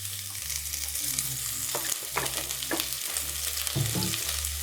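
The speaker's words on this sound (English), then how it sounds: "just throw in a bit of onions, add a little bit of oil, not so much" Onions frying in a little oil in a pan, a continuous close sizzle with a low hum underneath and several short clinks and scrapes of stirring.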